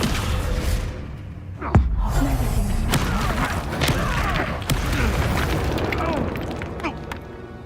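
Confringo blasting spell going off in the video game Hogwarts Legacy: a booming explosion with a sharp burst near the start, followed by continuous rumbling game effects and clatter through the rest.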